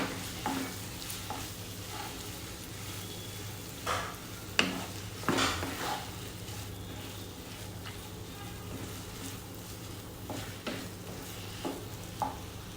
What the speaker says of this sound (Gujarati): છીણીને કાચા કેળા તૈયાર કરીને રાખ્યા હતા એ એડ કરી દઈશું અને પ્રોપરલી મિક્સ કરી લેવાનું છે